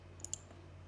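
A single quiet computer mouse click, a short double tick, close and isolated against a faint background hum.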